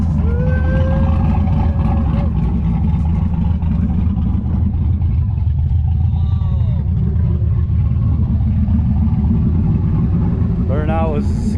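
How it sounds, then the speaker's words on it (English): A turbocharged LS1 Camaro roars loud and close during a burnout, with a heavy sustained rumble and rising revs, while voices talk over the engine throughout. "Burnout was a success,"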